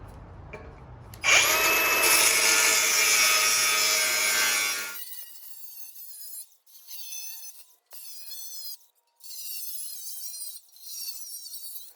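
A power tool cuts through old used alloy in a loud, bright, sustained burst of grinding, then gives way to shorter, quieter bursts of cutting separated by brief pauses.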